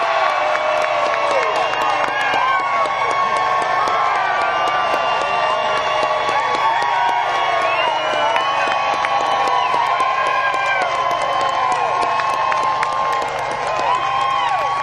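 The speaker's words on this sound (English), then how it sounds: "When I say, "How you doing, Tea Party?" I mean stand up and scream." A large Tea Party rally crowd in the Woodlands screams, whoops and cheers continuously, loud and sustained throughout with no break.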